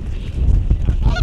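Loud nearby honking of geese in a North Dakota field during a goose hunt, a short burst of overlapping calls over a low rumbling background.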